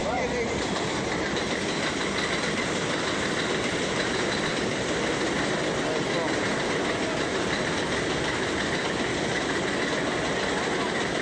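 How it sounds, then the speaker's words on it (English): Subway train rolling loudly and steadily with a dense rumbling roar and rail noise filling the whole stretch, heard up close. "That's what you call a subway."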